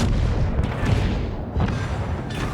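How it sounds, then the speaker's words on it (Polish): Warship guns firing a salvo in World of Warships, the HMS Tiger, deep booming blasts that roll into one another, loud and close, with a fresh boom around the middle and another near the end. "Kończę przeładowanie, strzelam"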